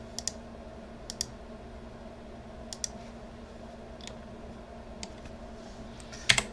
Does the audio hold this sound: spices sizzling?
no